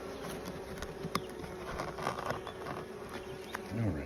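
Honey bees buzz steadily around an open hive while heavily propolized frames are worked apart, a continuous dense insect drone close by with faint bumps and rustles throughout.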